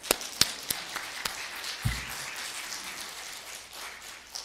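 A church congregation applauding together after a sermon, heard as a steady, fairly distant crackling patter with a few sharper claps standing out.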